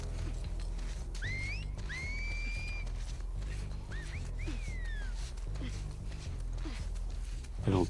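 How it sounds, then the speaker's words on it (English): A guard's whistle in the video game Oblivion: several short rising and falling whistled notes over a constant game background hum, without any speech. "I don't think that whistle means that they see me."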